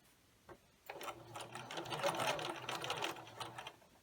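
A sewing machine stitches traditional quilt binding from the edge in a steady close whirr lasting about three seconds, following a single soft click; quiet overall.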